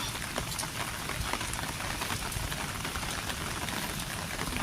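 Morning rain falls steadily on surfaces nearby, a dense continuous patter and hiss with no letup and no voices.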